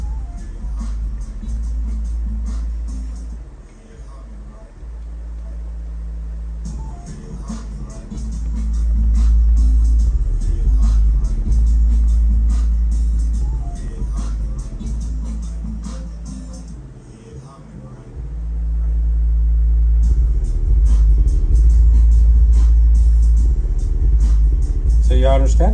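A rebuilt JL Audio W7 subwoofer plays music at raised volume, its deep, steady bass rumble filling the low end with swelling, pulsing passages and brief dips throughout.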